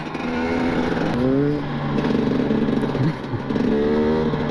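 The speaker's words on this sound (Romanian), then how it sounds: "Trage turbat motocicleta asta." A KTM, Husqvarna or Suzuki enduro motorcycle engine revs hard off-road, its pitch climbing and falling in repeated loud bursts close to the listener, with wind buffeting underneath.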